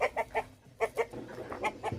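Guinea fowl calling nearby in a rhythmic series of harsh, clipped cries, several quick calls in bursts with short gaps between them.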